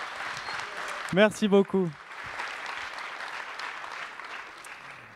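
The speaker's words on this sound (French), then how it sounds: "je pense qu'on peut l'applaudir pour le chauffer un peu" Audience applause at a tech talk, steady clapping from a crowd that continues under a brief spoken thanks and then fades on.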